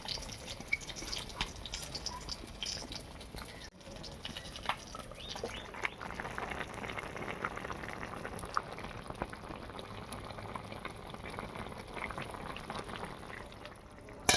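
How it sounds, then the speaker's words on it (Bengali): Koi fish curry in a thin gravy bubbling as it simmers in a pot: a continuous soft bubbling and popping close by, steady and fairly quiet, with a brief dip partway through. "মাছটা দিয়ে একটু ফোটাতে হবে"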